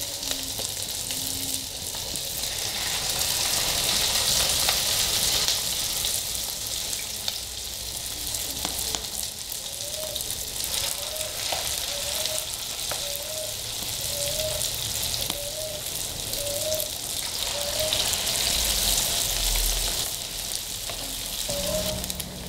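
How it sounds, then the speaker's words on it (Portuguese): Green corn fritters with cheese deep frying in hot oil, a steady broad sizzle and bubbling that holds constant, with a faint repeating tick running in the background. "Aí agora é só colocar mais para fritar, o mesmo processo, a mesma medida."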